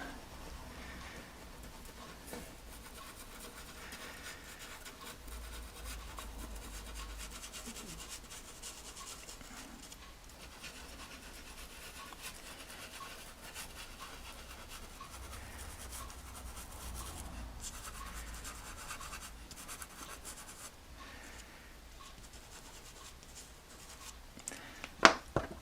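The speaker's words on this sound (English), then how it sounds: "pencil right on its side, very, very gently. I'm hardly touching the surface of the paper here." Colored pencil held on its side brushes very gently across paper in a faint, continuous whispery rub, steady and close throughout.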